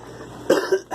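A single person coughs near the microphone during an RV slide-out repair, a short sharp burst with a second smaller cough just after, over faint background noise.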